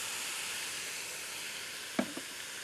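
Pork front leg stir-frying in its own fat, with onion going in: a faint, even sizzling hiss, then two quick utensil clacks near the end.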